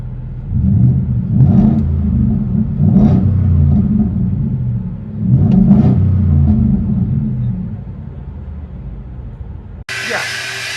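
A Ford F150 with a 5.0 Coyote V8 and aftermarket exhaust, heard from inside the cab as a steady low rumble with several rising rev swells, loud and close, ending in a brief bright burst.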